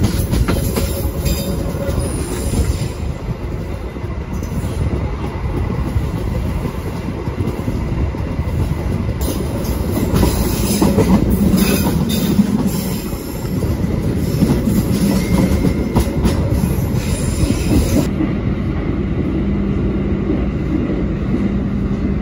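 Indonesian KA Maharani passenger train running on rails between Semarang and Surabaya, a steady loud rumble and rattle of railcars with clickety-clack wheel noise throughout, heard from on board.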